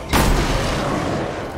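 A single loud, close shotgun blast from Resident Evil 6: a sharp crack that trails off into a booming decay.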